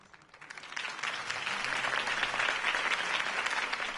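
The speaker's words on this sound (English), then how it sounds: "could have heard that applause" Applause from a crowd after a campaign speech builds quickly and continues steadily, a dense patter of many hands clapping at a moderate distance.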